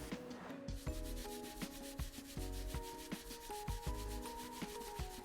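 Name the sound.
rubbing and cleaning a vintage object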